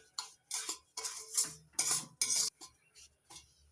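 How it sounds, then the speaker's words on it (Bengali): Semolina fried in ghee is stirred in a pan, with a spoon scraping and clinking against the metal in quick irregular strokes, close and fairly quiet. "আমি এখানে সুজিটা ঘি দিয়ে হালকা আছে ভেজে নিচ্ছি খেয়াল রাখতে হবে সুজিটা যেন পুড়ে না যায়"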